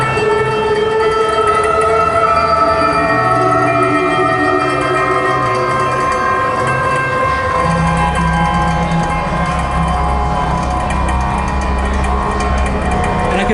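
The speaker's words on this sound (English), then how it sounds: "morphing a bouncing ball with a piano string played with a screwdriver, a fly, and a human voice" A dense synthesized texture from the Omni synth morphs a bouncing ball, a piano string played with a screwdriver, a fly and a human voice into one sustained, shifting drone with a deepening low rumble partway through.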